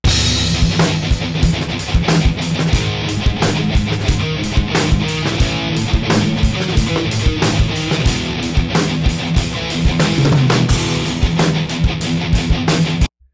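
A dense, loud drum track plays back continuously, with steady pounding hits and cymbal wash throughout, ending abruptly.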